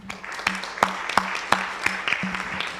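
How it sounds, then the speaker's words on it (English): An audience claps steadily at a tech conference demo session, a dense wash of hands with sharper individual claps standing out in a loose rhythm, moderately loud and continuous throughout. "what about next a massive year round of applause for James and Andy there?"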